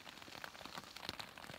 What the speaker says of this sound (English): This second lot of rain's been from midnight till 1 in the morning. And it's dripping everywhere.